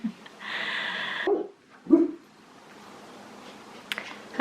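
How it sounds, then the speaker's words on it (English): Billy, a pet dog indoors, gives two short, sharp barks about a second apart, close by, after a quieter tonal noise, followed by near silence. "Had to cut him off there because he was barking."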